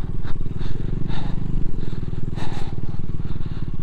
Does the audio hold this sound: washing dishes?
no